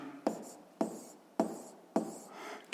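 Pen or pencil writing a physics formula on paper, heard as four close, scratchy bursts of strokes at a steady pace with short pauses between them. No voices.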